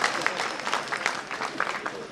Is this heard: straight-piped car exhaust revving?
no